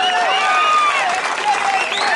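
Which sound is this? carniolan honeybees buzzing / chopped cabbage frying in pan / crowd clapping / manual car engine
crowd clapping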